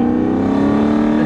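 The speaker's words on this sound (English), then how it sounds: "that exhaust is very loud" A loud car exhaust drones steadily close by on a Toyota Surf / 4Runner fitted with a 1UZ V8 engine, held at high revs with a rough, buzzing tone throughout.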